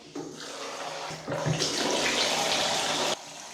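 Ground-floor bathroom tap turned on at full mains water pressure, a hard, loud rushing gush that starts abruptly, surges stronger partway through and cuts off sharply.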